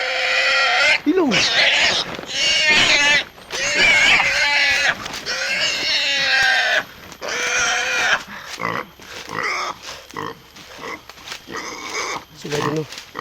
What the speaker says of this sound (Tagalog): Sobrang iyak ng baboy.